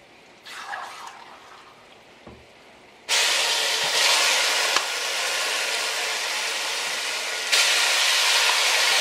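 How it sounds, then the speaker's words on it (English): Seasoned pork and marinade dropped into a hot pot on high heat, an abrupt loud hiss of sizzling that starts suddenly and holds steady, swelling again near the end after quieter handling noises. "it's time to add the seasoned pork, marinade and everything into the pot"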